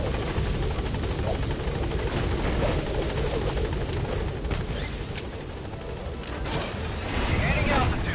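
Helicopter in the Metal Gear Solid V game: a loud, close, continuous rotor roar with a dense throbbing beat, steady throughout with a few sharp clanks near the end.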